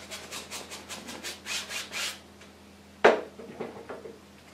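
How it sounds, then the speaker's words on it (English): A 2-inch brush rubs blue and green oil paint onto canvas in a series of soft rhythmic scrubbing strokes, followed by a sharp tap and a few fainter strokes. "So I'll grab the 2-inch brush and just stick a little bit of blue and green right there. Just rub it right in."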